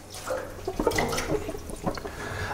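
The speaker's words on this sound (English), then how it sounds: "Again, you're gonna pour it out." Rinse water poured out of a water jug after a bleach disinfection, a brief close gush and splatter of liquid lasting a couple of seconds.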